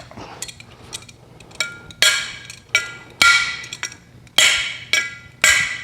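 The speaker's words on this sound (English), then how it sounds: "And move with a hammer, I'll tell you that much." A hammer strikes a wrench on a Volkswagen Beetle strut: sharp, ringing metallic blows in an uneven series, at first lighter and then a run of about six loud, close clangs.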